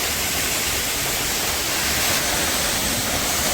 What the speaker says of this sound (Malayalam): ഞാൻ ഈ വെള്ളച്ചാട്ടത്തിൻ്റെ ഏകദേശം ചൂട്ടിലായിട്ട് എത്തി